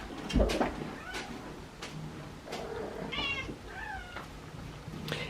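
A cat meows repeatedly in a room, plaintive cries calling for the other cats, with a few wavering mid-length calls and some background household noise.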